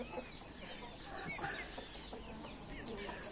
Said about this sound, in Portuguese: As galinhas aqui, galera,